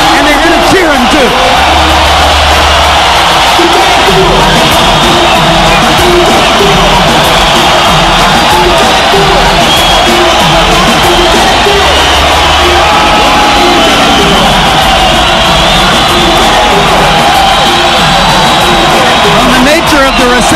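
A boxing crowd roars, bellows and whoops as Miguel Cotto makes his ring entrance, a dense, loud, sustained wall of cheering that never lets up, with a commentator talking over it.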